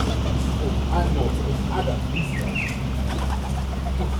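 Caged birds coo softly at Mukuvisi Woodlands in Harare, Zimbabwe, with faint chirps and a brief flutter, set against a steady low hum and people talking nearby.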